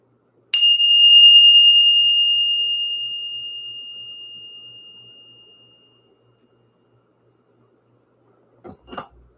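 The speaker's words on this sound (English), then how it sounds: "Let's ring the bell." A single bell is struck once and rings out with a clear, pure tone that fades slowly over several seconds into silence, followed by a faint brief knock near the end.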